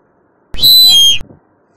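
Breath blown into a sink drain pipe makes a bright, high whistle that lasts under a second and stops sharply, with a faint flutter after it. The surroundings are otherwise quiet.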